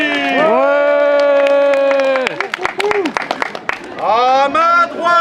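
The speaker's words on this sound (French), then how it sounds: "applaudissez" An audience applauds to welcome Tovik at a storytelling show, a short burst of sharp, uneven hand claps wedged between stretches of loud, sustained voice.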